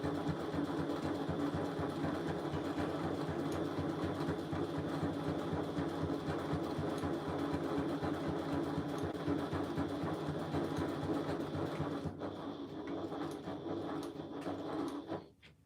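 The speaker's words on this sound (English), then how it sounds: "I'm going to stitch a couple of stitches forward, a couple of stitches backwards" A sewing machine stitches a straight seam, running steadily for about twelve seconds with a dense, even whirring hum, then slowing and stopping near the end; no talking over it.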